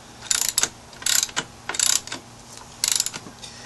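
Motorcycle front sprocket bolts being tightened with a ratchet: four short, close bursts of rapid clicking, each about half a second long and spaced by pauses, with no voices.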